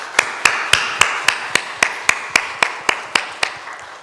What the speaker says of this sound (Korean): 우리 수고하는 선생님들을 위해서 박수 한번 하겠습니다.